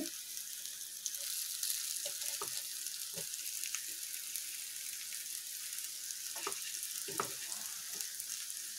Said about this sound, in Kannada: ನಿಧಾನ ಫ್ರೈ ಮಾಡ್ಕೊಳ್ತೀನಿ ಈಗ ಇದು ತಿರುಗಿಸ್ಕೊಂಡು ನೋಡ್ತೀನಿ